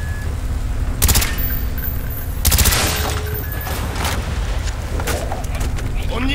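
Gunfire in the Black Ops 1 video game, a few loud broadband bursts and shots over a dense, noisy battle background, with quieter cracks scattered throughout.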